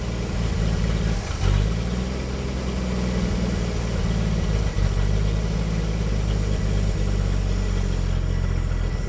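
1957 Chevrolet 150 engine, revived after sitting parked for 40 years, idling with a steady loud low rumble and slight lope, close up and uninterrupted.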